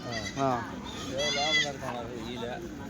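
Goats at the weekly Tuesday livestock market in Kadiri bleat in several wavering, nasal calls close by, mixed with the murmur of people talking around them.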